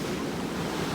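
Waves wash onto a white sand beach in a steady, full roar of surf with some wind buffeting the microphone, no voices.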